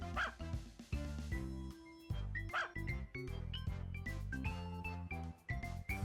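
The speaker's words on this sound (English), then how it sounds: "your dog scared me half to death, barking like that all of a sudden" A dog in the farming game Story of Seasons: A Wonderful Life barks in a few short, sharp yaps, set against cheerful game background music.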